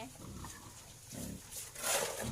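Fattening pigs on a Lao smallholder pig farm grunt and snort in low bursts at close range, with a louder squeal near the end, over steady pen noise.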